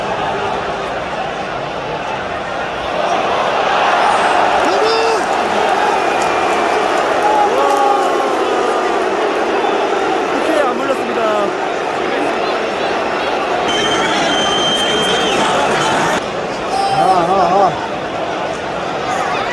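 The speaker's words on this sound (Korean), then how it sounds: "관중 응원이 정말 장난이 아니에요" A dense stadium crowd at an Arsenal versus Manchester City football match roars and murmurs in a continuous loud wash, with a close voice talking over it and brief whistles and shouts rising out of the din.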